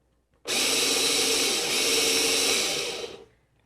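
An OXO electric burr coffee grinder runs through a quick grind of coffee beans, a steady loud whirring hum that starts abruptly, holds for about three seconds, then winds down.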